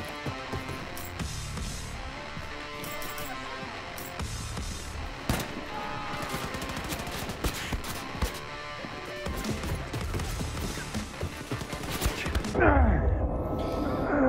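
Dense, sustained gunfire in the shooter Wolfenstein II: The New Colossus, rapid bursts and fusillades rattling loudly throughout, with a final heavier blast near the end and barely any talk.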